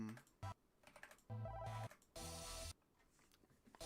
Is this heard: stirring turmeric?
no